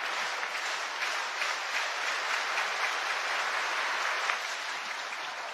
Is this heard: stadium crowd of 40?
yes